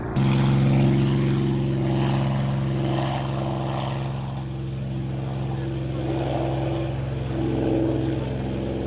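Spitfire propeller aircraft taking off at an airshow, a loud, steady piston-engine drone with strong humming tones, while radio-style voices talk over it intermittently.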